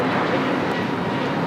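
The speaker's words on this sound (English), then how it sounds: "That is that flight, A321 Neo heading to Dallas, Fort Worth, Texas with American Airlines" An American Airlines Airbus A321neo bound for Dallas–Fort Worth departs LAX with a loud, steady broadband jet engine roar through the short stretch, and no one speaks.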